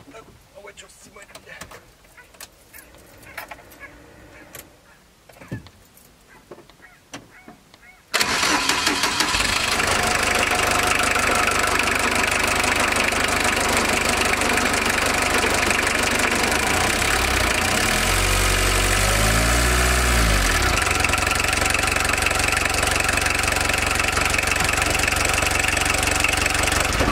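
A Volkswagen T3 Westfalia Joker camper van engine cranks and catches, then idles loudly and steadily, its revs dipping and rising briefly, after some quiet talk and handling noises.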